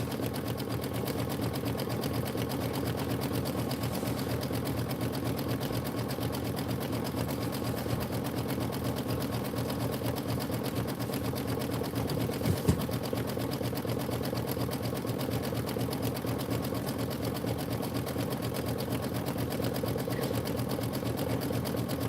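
An embroidery sewing machine stitches a Kimberbell tiling scene, a fast even needle rhythm running continuously and fairly quietly throughout.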